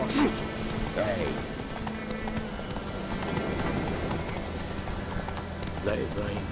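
Rain falling in The Witcher 3 game world at White Orchard, a steady pattering hiss with horse hooves clip-clopping and brief voices over it.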